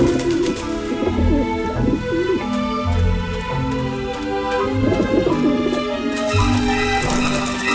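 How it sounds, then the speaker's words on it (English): Pigeon-like birds coo repeatedly in Grim Fandango Remastered, low throaty calls in an uneven rhythm layered over steady game music and close, fairly loud throughout. "Back off, birds!"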